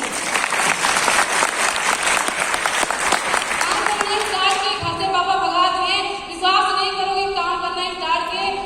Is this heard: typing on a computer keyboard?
no